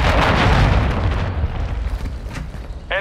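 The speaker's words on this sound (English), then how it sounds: "Hostiles launched a cruise missile." A cruise missile explodes in Call of Duty Modern Warfare, a loud, close blast that rolls into a long rumbling decay, ending with a brief sharp electronic sound.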